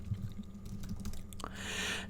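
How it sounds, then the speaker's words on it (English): Quick, light keystrokes on a computer keyboard tap away at a faint level, followed by a brief rising hiss near the end. "we do that by typing Vapor deploy staging"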